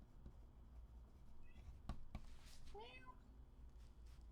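A pet cat meows softly a few times indoors, short rising calls near the middle, faint against quiet room noise, with a voice speaking nearby.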